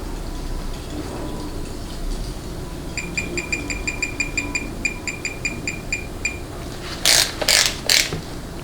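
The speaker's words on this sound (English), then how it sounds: "Then you're gonna torque this little forcing screw down to 50 inch-pounds" A ratchet or torque wrench clicks in quick, even bursts while tightening a forcing screw in a Ford AOD transmission, followed by a few louder metallic clacks at the end, close and clear.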